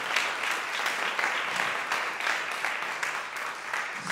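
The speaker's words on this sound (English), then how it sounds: "So one more round of applause." An audience applauds at a youth jazz concert night during a kids' summer workshop, with dense, sustained clapping filling the room and no speech over it.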